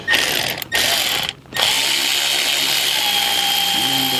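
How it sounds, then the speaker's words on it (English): A cordless ratchet turns a bolt on a 2007 Mazda 3, giving a loud, close, steady motorized whir with two short breaks, and a voice speaks briefly near the end. "So I'm using my cordless ratchet"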